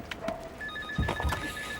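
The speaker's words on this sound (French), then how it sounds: "téléphone" A telephone rings indoors in an office with an electronic trilling tone, fairly faint, while a couple of dull thumps and footsteps sound nearby.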